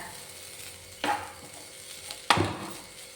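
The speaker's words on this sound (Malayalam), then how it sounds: "ഇനി ഇതും കൂടെ ചേർത്ത് വീണ്ടും ഒന്ന് വഴറ്റാം" A banana snack mixture sautéed in a pan sizzles softly, with two distinct scraping stirs a second or so apart standing out over the low, continuous frying hiss.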